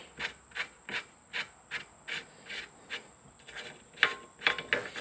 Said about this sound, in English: I take this bolt and I thread this bolt down in there an inch